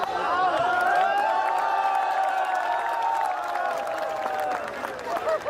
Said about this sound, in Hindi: और तालियां तो इस बात पे बजाना